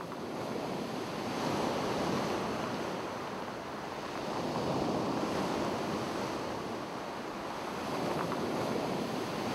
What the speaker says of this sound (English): Backed by scented pine forest, the sandy beach at Scala seems to go on forever.